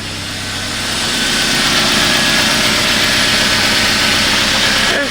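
A car engine with a massive crack in its exhaust manifold runs loud and close, a steady roar with a faint, rapid puffing pulse underneath and no talking.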